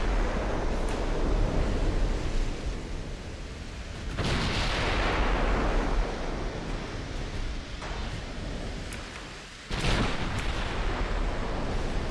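A battleship broadside of 20-inch guns fires in Ultimate Admiral, deep booming blasts rolling into a roaring noise wash, two distinct loud salvos several seconds apart over constant low rumble.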